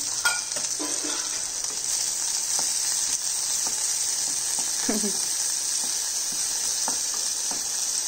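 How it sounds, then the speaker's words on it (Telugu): Onion, curry leaves, coriander and chili frying in hot oil for bottle gourd pulusu: a steady loud sizzle with occasional spatters and the faint scrape of stirring. "ఆనియన్ వేసేసాను, కరివేపాకు, కొత్తిమీర, మిర్చి,"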